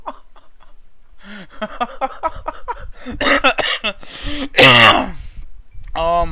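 Someone clearing their throat and coughing during a Minecraft game session: a series of rough, raspy throat scrapes and hacking coughs up close, building to a louder harsh burst near the end, mixed with vocal noises.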